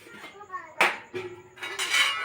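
While starch water is drained from a pot of cooked rice, the metal pot clanks and knocks in a few sharp, close bursts separated by quieter gaps.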